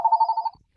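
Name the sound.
telephone ringing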